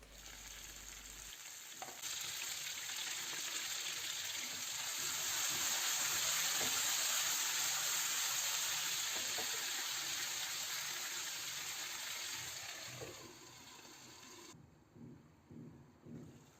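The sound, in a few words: vegetables frying in oil in a covered pan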